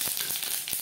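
Three dried red chillies and panch phoron sizzling in hot oil in a kadai, a brief close crackling fizz with a few sharp pops.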